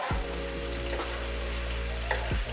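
Vegetables stir-fry in a pan over a gas stove, a dense continuous sizzle with occasional scraping and stirring knocks, close and fairly loud, no voices.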